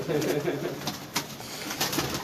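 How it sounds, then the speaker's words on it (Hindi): Chinese pigeons cooing softly in a series of low, throaty coos, close by, with faint background noise and occasional voices nearby. "ये चीने कबूतर ये है"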